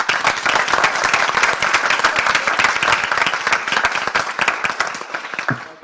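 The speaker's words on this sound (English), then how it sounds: "let's give our panelists a round of applause" An audience gives panelists a round of applause at an early-childhood policy event, steady, fairly loud clapping from many hands that carries on for several seconds before tapering.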